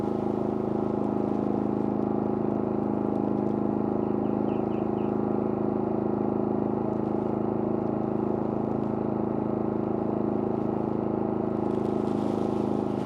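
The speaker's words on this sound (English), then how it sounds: "this is a Pulsar unit on eco mode, no load" A Pulsar portable inverter generator hums steadily at an even idle in eco mode with no load, a constant mechanical drone with no load changes, close and fairly loud.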